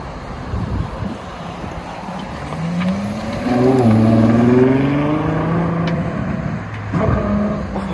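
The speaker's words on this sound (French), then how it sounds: "Et la 812 GTS qui va s'en aller, je pense, dès qu'il n'y aura plus de trafic là-bas" A Ferrari 812 GTS supercar pulls away at a supercar gathering in Romans, its engine swelling in a rising, revving note that climbs through several gear-like steps before easing off, with wind buffeting the microphone throughout.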